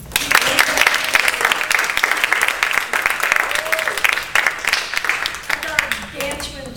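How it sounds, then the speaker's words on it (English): An audience at a Toastmasters club meeting breaks into a sustained round of applause, dense and steady clapping filling the room with a slight crowd murmur. "I would love for everybody to join me in a round of applause"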